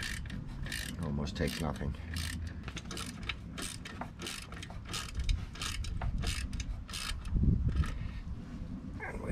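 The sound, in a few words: socket wrenches ratcheting while tightening saddle bag bolts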